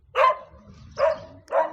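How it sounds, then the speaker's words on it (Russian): Dogs bark in a rural village, three distinct barks spaced about half a second apart, mid-distance and moderately loud over a quiet outdoor background. "Ну, везде лают собаки, везде."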